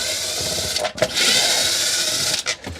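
Screws backed out of a Samsung dishwasher sprayer with a power driver, giving a loud, steady close whir that briefly drops out and restarts, ending with short bursts.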